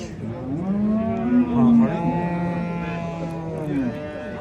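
A cow at a livestock market lets out a long, deep, drawn-out moo, close and loud, swelling in the middle before tapering off.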